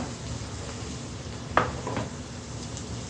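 Salt and chili spices frying in a pan for a homestyle egg curry give off a steady low sizzle, with a sharp utensil clink or scrape near the middle and a softer stir just after.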